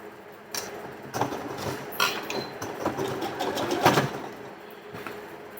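Sewing machine stitching a blouse seam with a quarter-inch allowance, a fast mechanical rattle that speeds up and slows in short bursts, close by with occasional clicks and handling noise.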